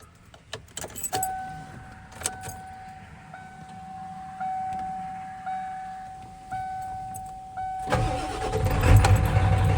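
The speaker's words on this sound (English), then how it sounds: "let's give this thing a start, and I'll let you guys hear it run" A 1997 Ford F250 with a 7.3 Powerstroke diesel and ZF5 manual transmission, heard as keys jingling and a faint ringing chime before the engine cranks and catches near the end with a loud rough rumble.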